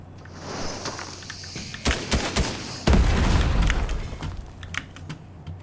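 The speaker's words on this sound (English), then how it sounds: "He's throwing grenades" Grenade explosions in Fortnite land as a scattered run of sharp cracks and bursts. One heavier boom about midway sets off a longer rumble, over a quieter background of game noise.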